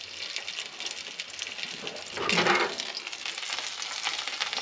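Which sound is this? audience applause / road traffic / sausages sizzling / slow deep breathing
sausages sizzling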